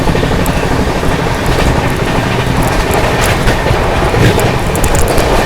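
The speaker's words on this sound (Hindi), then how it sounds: "यहाँ पर अपनी AC दुरंतो ने ओवरटेक किया है कोटा वडोदरा एक्सप्रेस को" Indian Railways AC Duronto Express, the NZM–Pune service, rolling past and overtaking the Kota Vadodara Express, heard as a loud, steady rumble of wheels and coaches with clickety-clack rhythm and no voices.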